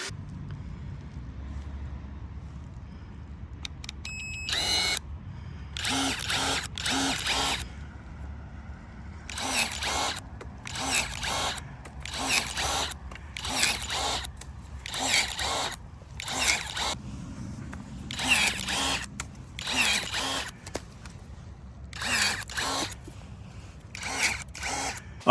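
Battery-powered Prunarbo pruning shears with a brushless motor, running in a steady series of short, close, sharp motor bursts with brief pauses between them and no talking.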